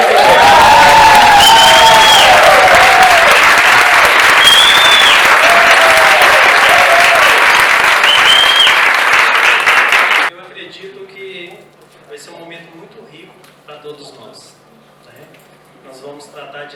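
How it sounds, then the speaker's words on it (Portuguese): Warm audience applause greets a psychoanalysis lecturer at a talk, a loud, dense wash of clapping with voices over it for about ten seconds before cutting off to quiet room sound. "será recebido por todos vocês com calorosos aplausos"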